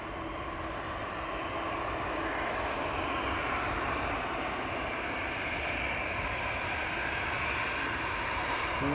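Boeing 787 Dreamliner bound for Nairobi at Amsterdam Schiphol, a continuous, fairly close broadband jet engine roar that stays steady from start to finish.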